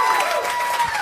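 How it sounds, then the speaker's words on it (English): A concert crowd at a live show gives a brief, loud, blurred burst of applause and crowd noise lasting about a second. "Please, guys, give him a round of applause."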